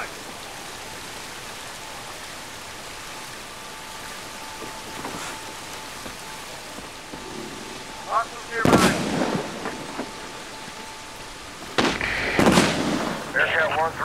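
A demolition charge detonating during a Medal of Honor: Warfighter mission at the Darra gun market: sharp loud blasts late on, followed by crackling debris, over steady rain-like background noise and a radio voice.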